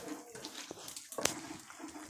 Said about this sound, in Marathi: आता आपल्याला याला चांगलं असं फिरवायचं आहे हात याच्यात, जेणेकरून लोणी हे आपलं पाणी सोडेल